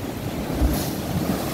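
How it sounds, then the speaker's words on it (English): Sea waves wash and break along a shore in a steady, close rush, with wind buffeting the microphone. "Look at this sea."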